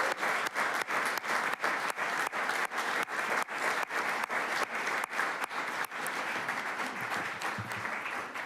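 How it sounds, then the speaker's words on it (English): Steady applause in a city council chamber for a group of young athletes, many hands clapping in a full wash with regular sharp accents, thinning slightly toward the end. "can we get a round of applause for these amazing young ladies?"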